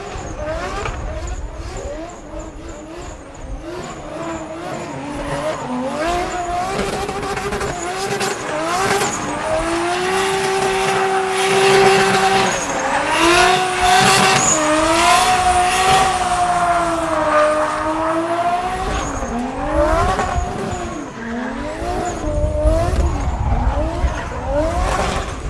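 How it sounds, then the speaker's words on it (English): A car drifts with the throttle held wide open, its engine revving continuously while tires squeal in long, wavering howls over a sustained roar, close and loud throughout. "drifting with his foot taped to the gas pedal"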